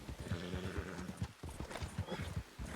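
Horse hooves gallop in a roleplay video game, a rapid, close clip-clop rhythm that pounds steadily throughout, with a brief whinny and some muffled voice mixed beneath.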